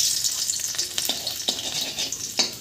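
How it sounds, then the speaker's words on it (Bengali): Chopped garlic hits hot oil already holding fried cumin seeds and a dried chili, crackling in a close, brisk sizzle with a few stirring taps. "এর মধ্যে রসুন কুচি একটু দিয়ে দেই।"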